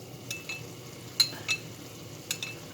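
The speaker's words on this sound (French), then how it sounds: "On mélange bien avant de rajouter dans le tagine" A vegetable and minced-meatball mixture for a Moroccan tagine is stirred in a pan, with a handful of sharp utensil scrapes and clinks over a soft, faint sizzle.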